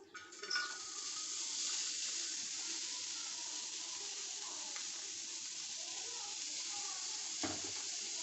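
Onions sizzle on a hot iron tawa for tawa kaleji, giving a steady, fairly quiet hiss after an initial burst, with a brief clatter near the end.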